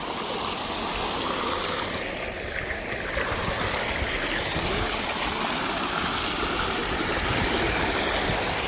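Spring water runs from its source on a hillside, a continuous rushing, gurgling flow, loud and close with no break.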